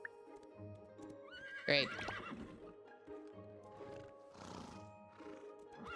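A young black foal and an adult horse whinny on a horse farm in the video game Starsand Island, with one loud, sharp neigh standing out over soft hoof clip-clops and quieter calls, and a voice speaks briefly.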